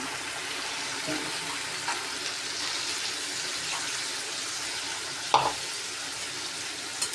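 Meat with homemade sour yogurt stirred and slowly fried on low heat in a pan, giving a steady broadband sizzle with soft scraping from stirring and one brief sharper clink near the end, with no talking.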